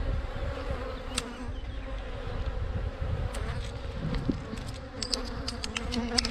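Honey bees swarm around an open hive during an inspection, giving a dense, continuous drone close by, with sharp clicks and knocks from handling the hive equipment layered on top.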